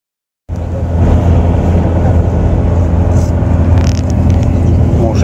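A bus drives out of town toward a reindeer safari in Lapland in minus 21 degree cold, its engine a loud, steady low rumble with road noise that begins suddenly and continues unbroken.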